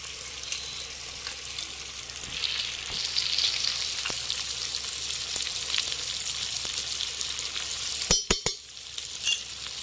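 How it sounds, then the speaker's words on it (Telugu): Country chicken curry simmers in a pot for village-style pulao, giving a steady bubbling hiss that runs throughout at close range, with a few sharp clinks near the end and no talk. "బాగా ఉడుకుతుంది."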